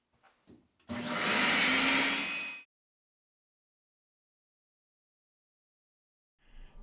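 Shop vacuum sucking up wood shavings while a pen blank is turned on a lathe: a loud steady whooshing roar for under two seconds, then abrupt silence, with faint clatter before it starts.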